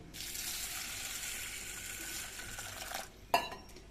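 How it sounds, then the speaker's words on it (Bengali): Lentils being washed in water in a pot, a steady swishing, sloshing rinse that stops near the end, followed by a single sharp clink of a vessel, close and quiet. "আমি এই জন্য ডালগুলো ধুয়ে নিচ্ছি"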